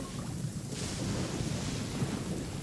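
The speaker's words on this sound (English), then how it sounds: "Uh-oh! Lightning storm!" Deep rolling rumble of thunder from a lightning storm in Genshin Impact, with wind and rain noise, sustained and low, without speech.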